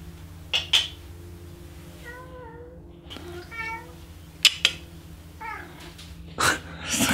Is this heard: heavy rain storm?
no